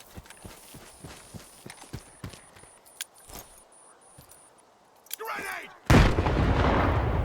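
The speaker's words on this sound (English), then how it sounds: "I'll just use another grenade on them when I get close" Grenade blasts in the video game Stalker 2, with scattered sharp gunshot cracks and clatter leading into a loud, sustained explosion roar near the end.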